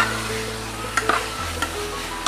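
Prawns sautéing in a pan on an induction cooktop give a steady, close sizzle with a few sharp scrapes and clicks from stirring, and no talking.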